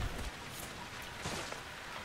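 Steady rain falls in an even, hissing wash, moderately faint and unbroken, with no voices.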